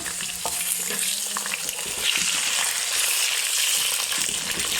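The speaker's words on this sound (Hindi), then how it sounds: "ये प्याज हमारा हमने आधे से ज़्यादा निकाल लिया है। अब हम इसमें चिकन ऐड करने लगे।" Steady, loud sizzling of chicken frying with onions in a hot clay pot, with occasional stirring clatter, continuous throughout with no voices.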